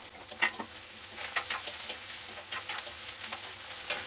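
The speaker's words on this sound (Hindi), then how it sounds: "अब इसमें आलू डाल देंगे।" Potatoes tipped into a hot pan of softened onions while cooking capsicum sabzi, giving a soft, steady sizzle broken by light stirring scrapes and patters, close and faint with no talk.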